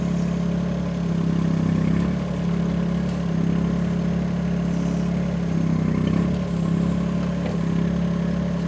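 Chinese UHI UME 12 mini excavator fitted with an 800mm mud bucket, its engine running steadily nearby in a continuous low, rumbling drone with slight rises in load and no pauses.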